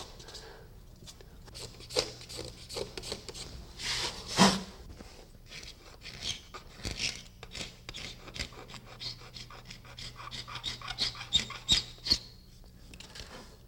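Hand scraper drawn diagonally across the grain of a wooden floor, giving a series of short rasping strokes at an irregular rhythm, close and fairly quiet, with a soft voice talking at times.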